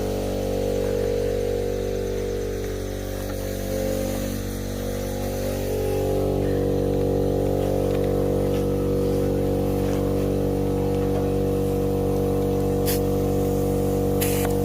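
Water sprays from a hose near a water trailer with a continuous, loud hissing rush over a steady low engine-like drone, shifting slightly in tone midway, with no talk.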